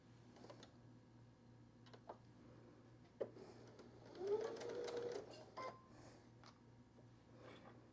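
A home sewing machine stitches fold-over binding on a machine-embroidered quilted wall hanging. It runs as a faint, steady hum with a slightly louder stretch of stitching midway and occasional light ticks, with no talking.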